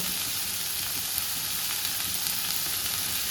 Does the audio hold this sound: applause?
no